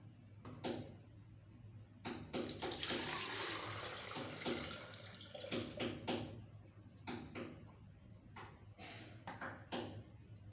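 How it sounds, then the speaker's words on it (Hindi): Dirty water is poured from a bowl into a bucket, making a steady splashing pour surrounded by scattered clicks and knocks of handling, quiet and close. "ये जो बोल पानी का जो गंदा हो गया है इसको हमने बकेट में ट्रांसफ़र कर देना है"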